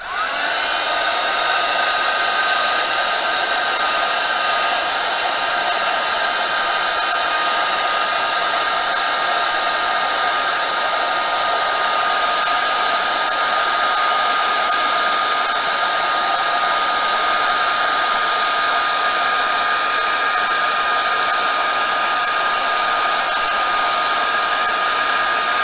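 A heat tool blows loudly and continuously while heat-setting dribbled paint on a recycled heart canvas, a steady close roar of fan and hot air that never breaks and has no voices over it.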